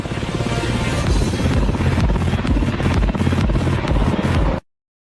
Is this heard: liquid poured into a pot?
no